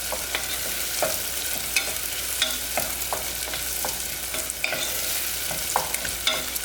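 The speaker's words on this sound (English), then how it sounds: "I always want to cook my onions until they're like kind of brownish" Onions frying in a pan for a fish curry, being cooked down toward brown: a steady close sizzle with a stirring utensil scraping and tapping the pan at regular intervals, and no voices.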